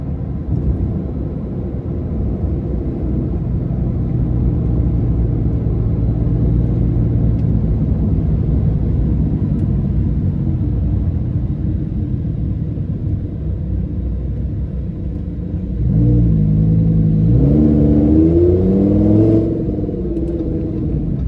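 A 2015 Lamborghini Huracan LP610-4 with a V10 engine drives along, its loud, steady interior engine drone rumbling throughout before a rising revving surge of acceleration near the end, with no talking.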